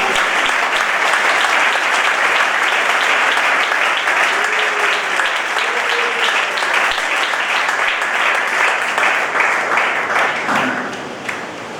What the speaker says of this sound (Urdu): تالیاں بجائیں